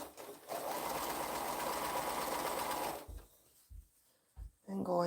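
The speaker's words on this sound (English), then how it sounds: "I'm going to sew that, press it" A sewing machine stitches quilt fabric in a steady fast run of about two and a half seconds, followed by a few short separate bursts of stitching and handling noise.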